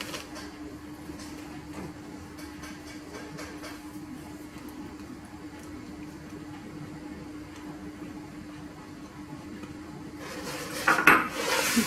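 Butter and sugar being stirred together in a bowl, with faint repeated scraping and light clinks of the utensil against the bowl and a louder clatter near the end.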